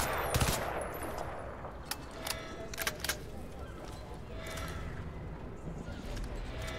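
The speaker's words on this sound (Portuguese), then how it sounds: "Olha lá, os caras já chegaram atirando ali já." Gunfire in the Crysis 2 video game on Linux, scattered sharp shots and short bursts of automatic fire over a noisy battlefield bed, fairly faint and distant.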